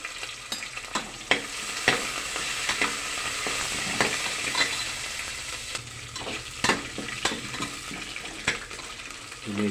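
Curry leaves and spices fry in a pan for a masala dosa filling, a close continuous sizzle punctuated by repeated sharp scraping clicks as a spoon stirs them around.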